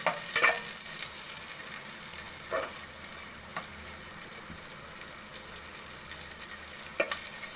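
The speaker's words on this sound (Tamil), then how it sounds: "அந்த வெங்காயத்தை கொஞ்சம் நம்ம பொன்னிறமாக வறுக்கிற மாதிரி எப்பயும் போல் செய்கிற மாதிரி செஞ்சுக்கணும்" Onions frying in a pan for a Kanyakumari-style stingray fish curry give a steady, soft sizzle, broken by a few brief stirring scrapes. No one speaks.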